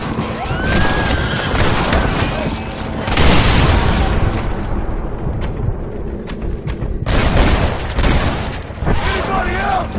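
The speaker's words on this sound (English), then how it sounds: "Stop shooting at me!" Loud, booming gunfire erupts in heavy volleys, with bursts of overlapping shots broken by brief lulls, and a voice speaks amid the shooting.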